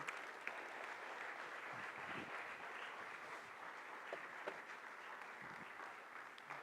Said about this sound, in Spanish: ¿Qué tal si le damos un aplauso a nuestro Señor por su gran bendición?